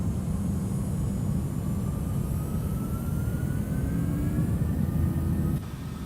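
Simulated IAE jet engines of an MD-90 airliner in X-Plane 11 spool up as a loud, steady roar with a slowly rising whine, heard alone with no talking before the sound drops slightly near the end.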